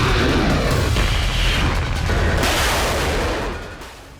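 Loud, sustained blast rumble from an explosion near a Ukrainian civilian ship in the Black Sea close to Odesa, a heavy booming roar filling the whole stretch before fading slightly at the end, with no talk.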